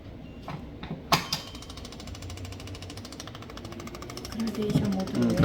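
A scalp micropigmentation machine fitted with a swapped sleeve runs in gradation mode, a fast steady mechanical buzzing rattle close by with a few clicks at the start and faint talk underneath.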